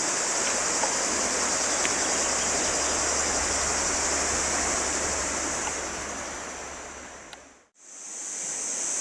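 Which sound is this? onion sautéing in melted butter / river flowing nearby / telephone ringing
river flowing nearby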